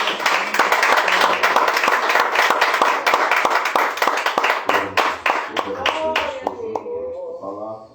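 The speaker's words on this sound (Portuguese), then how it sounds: "E uma linda salva de palmas para Jesus" Church congregation applause during a worship service, with dense, rhythmic clapping from many hands and voices talking and calling out underneath, thinning out toward the end as one voice carries on.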